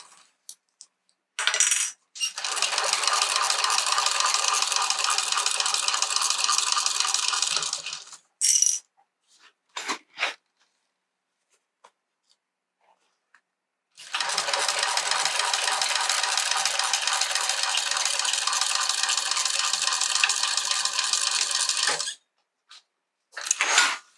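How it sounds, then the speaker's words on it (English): A sewing machine stitching the lining of a Zynah bag closed, two long steady runs of fast, even whirring close by, separated by a quiet pause with a few small clicks and handling sounds. "we're just going to sew this lining here closed"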